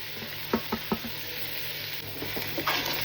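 Spinach thoran fries and sizzles in a pan as a spoon stirs it, a soft continuous sizzle broken by a few clear scraping strokes, close and quiet.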